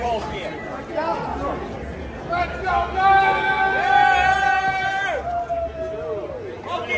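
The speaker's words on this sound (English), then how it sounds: "10 minutes to doors and the crowd gathers" A dense crowd chatters outside Clover Park in St. Lucie, Florida, before the gates open at a New York Mets spring training game, with a steady babble of many voices and a loud, rising whoop near the middle.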